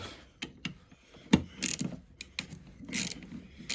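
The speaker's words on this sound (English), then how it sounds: "just undo the nuts" Ratchet undoing nuts while an alternator is scrapped for metal: quiet, close clicking pawl bursts and small metallic rattles in irregular short runs.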